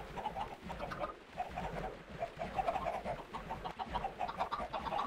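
Many chickens clucking together on a video game chicken farm, a dense continuous flock chatter that stays fairly steady and close throughout, with no talking over it.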